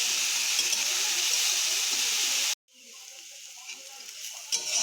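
Chopped snake gourd and potato fry lightly in a pan with a bright, steady sizzle. The sound cuts off abruptly, then returns as a quieter hiss with faint stirring.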